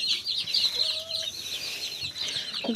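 Bantam chickens on a village farm in Ukraine clucking and chirping while feeding on greens and egg, a busy close cluster of soft, overlapping calls.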